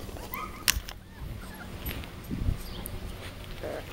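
Four-week-old puppies from a litter give soft, brief whimpers and whines, a few faint cries scattered over quiet background noise.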